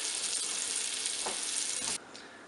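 Salisbury steak patties browning in a pan over high heat give off a steady loud sizzle and hiss, with a couple of faint shifts near the end as the sizzle drops slightly in level.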